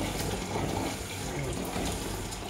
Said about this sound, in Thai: อันนี้แค่สาธิตการล้างไข่มดแดงนะคะ